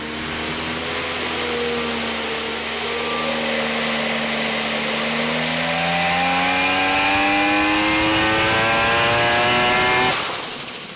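A Mazda 20B three-rotor rotary engine built for street response revs loudly up close, its buzzing, rising whine climbing steadily in pitch over several seconds before dropping off abruptly.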